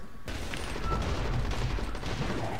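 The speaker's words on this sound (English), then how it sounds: "I was shooting the ground there." Rapid gunfire from a zombie shooter video game, rounds fired into the ground in a dense, continuous burst that holds steady and loud for the whole stretch with no voice over it.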